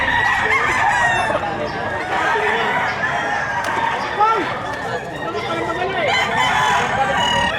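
Many chickens and roosters at a livestock auction market in Padre Garcia, Batangas crow and cluck continuously and loudly, with crowd chatter and people talking throughout.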